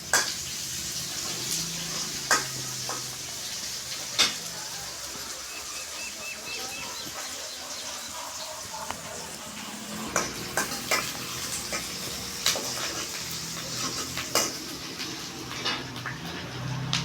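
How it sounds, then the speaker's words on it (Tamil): Onions are sautéed in a pan for a Tamil duck curry, with a soft steady sizzle under repeated sharp scrapes and clinks of a spoon stirring them. "ஸோ வெங்காயத்தை நல்லா ஒரு பொன்னிறமாக நம்ம வதக்கிக்கணும்."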